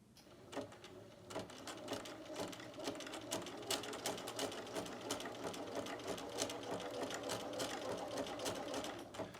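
Sewing machine test-stitching silk organza at the fabric's edge, running steadily for several seconds as a continuous rapid needle chatter with a faint low motor hum, close and fairly quiet.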